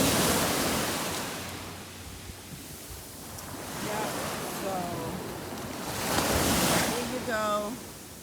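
Ocean waves at Coco Beach in Dar es Salaam, Tanzania, washing in and receding in slow surges, close and moderately loud, with wind noise and a voice speaking briefly over them.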